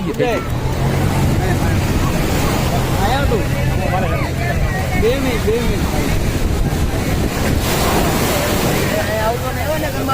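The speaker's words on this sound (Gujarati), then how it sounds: "મોજા બહુ ગાંડા." Sea waves surging onto the beach at Dwarka with strong wind buffeting the microphone, a loud steady wash, while people shout and talk over it.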